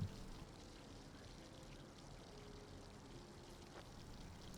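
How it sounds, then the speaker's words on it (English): Water runs steadily from a tap in the video game The Darkness 2, a faint, even pouring hiss that continues unbroken throughout with no voices. "I proceed to spend probably what I would consider a little bit too much time wasting water."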